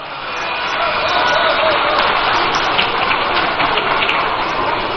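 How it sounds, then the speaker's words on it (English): A large crowd at a 2024 NDC political event in Ghana claps in sustained, dense applause that swells within the first second and holds loud and even to the end. "A round of applause for him."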